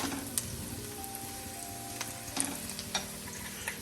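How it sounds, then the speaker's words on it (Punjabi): Onions half-fried in a pan for aloo gobi, a soft continuous sizzle with occasional light stirring clicks and scrapes, close but fairly quiet, no talking. "ਹੁਣ ਪਿਆਜ਼ ਪਾਏ ਆ ਪਿਆਜ਼ ਆਪਣੇ ਹੋ ਗਏ ਆ ਮੰਨ ਲਓ ਹਾਫ ਫਰਾਈ ਹੈ"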